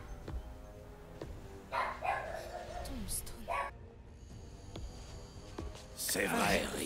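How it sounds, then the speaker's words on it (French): A small dog yips and barks a few times at a distance, short sharp calls mixed in with ongoing talk and game sounds. "vous entendez mon chien japper"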